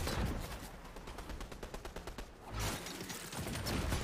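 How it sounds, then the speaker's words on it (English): Rapid bursts of gunfire from an opposing team in Fortnite, dense rattling volleys that dip briefly midway and then resume, fairly faint with no talking. "I had the other team shooting at me, too."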